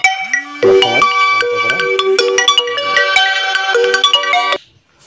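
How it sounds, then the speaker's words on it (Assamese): A mobile phone ringtone for an incoming call plays loud and close as a repeating bright melodic tune, with a few brief voice sounds mixed in, then cuts off abruptly near the end. "মোৰ এটা ফোন আহিছে"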